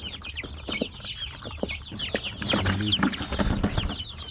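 Chicks and chickens cluck and peep steadily around a poultry feeder outdoors, a busy overlapping flock chatter with occasional louder calls and faint wing movement, close to the microphone with no speech.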